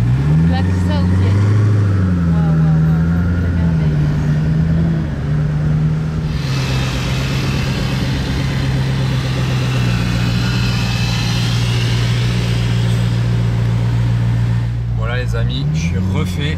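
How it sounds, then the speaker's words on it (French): A Koenigsegg Agera supercar with a Saudi plate drives on the road just ahead, giving a steady, fairly loud engine drone that wavers in pitch early on, with voices talking excitedly over it. "Regardez les amis ce spot improbable, une Koenigsegg Agera"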